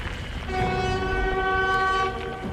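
Train rolling past in Baldur's Gate 3, a sustained droning horn-like tone with steady rumble swelling in the middle and easing off near the end, with no voices over it.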